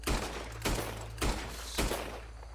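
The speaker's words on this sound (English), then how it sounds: "Why are you shooting at thin air?" Gunshots fired into the air in Red Dead Redemption 2: four sharp, loud reports spaced evenly about half a second apart, each with a short ringing tail over a low steady hum, no voices.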